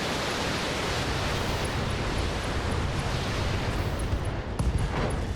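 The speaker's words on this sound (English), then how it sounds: "I'm gonna guess that was an ammo explosion" An ammo explosion in the mech combat game BattleTech rumbles as a dense, sustained roar of blast noise that fills the clip, with a brief extra burst near the end.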